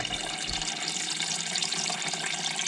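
Steady splashing water pours and drains into a pan from a Honda CBR 900 RR, a continuous hissing flow heard up close with no talking.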